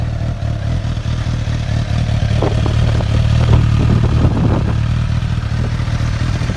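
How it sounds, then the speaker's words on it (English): Suzuki GSX-S1000F motorcycle on its stock exhaust, a steady low engine drone with a brief rise in revs and some mechanical clatter, close and fairly loud, with no talking. "it sounds decent with the stock exhaust"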